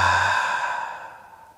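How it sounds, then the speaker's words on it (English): A deep, audible exhale during a yoga breathing exercise, one long breathy sigh that starts strong and slowly fades out over a second and a half, close and alone. "give yourself one more big inhale through your nose and exhale with sound"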